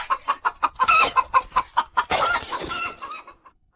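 A hen clucks in a quick rhythmic series of short, close, distinct notes, then breaks into a longer, louder squawk before falling silent.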